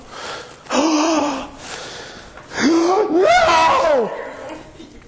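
A preacher voices several shocked gasps, imitating a crowd's reaction. The breathy, drawn-out exclamations sound close and loud, in two bursts with a short pause between them.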